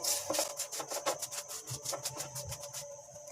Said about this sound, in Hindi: अब ब्रश से हल्का हल्का नान ऑयल लगा लूँगी।